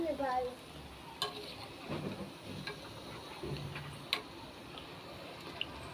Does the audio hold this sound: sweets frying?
yes